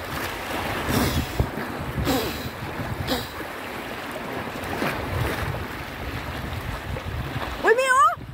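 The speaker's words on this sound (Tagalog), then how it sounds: "Ang laki ng alon." Large ocean waves surge and wash repeatedly at the shore, with a broad rushing roar, wind buffeting the microphone, and a brief shout near the end.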